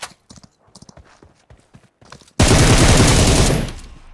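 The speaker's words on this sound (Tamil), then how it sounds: "குதிரையில ஜம்ப் பண்ணி போயிட்டு இருக்காண்டி ஒருத்தன்" A horse gallops in the mobile battle game BGMI, its hoofbeats a quick rhythmic clip-clop for a couple of seconds, then a sudden loud, dense burst of noise takes over and fades.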